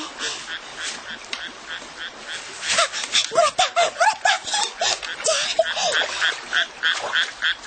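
Frogs croaking in waterweeds by a stream as a radio drama effect, with a chorus of rapid, close, rhythmic croaks and quacking calls that build after a few seconds, and no speech.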